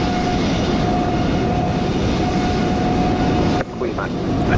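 An Airbus A320neo in KLM livery departs in Microsoft Flight Simulator 2020 at Edinburgh: a steady, loud engine roar with a faint tonal whine, which cuts off sharply near the end.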